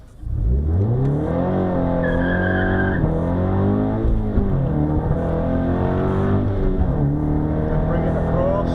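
Sprint race car at Barkston Heath held on the handbrake at the start line, its engine revving hard with rising and falling pitch, loud and close inside the cabin while someone talks over it.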